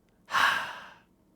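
A narrator voices a single breathy gasp imitating a dying monster's last breath, a close, soft exhalation lasting under a second and then fading out.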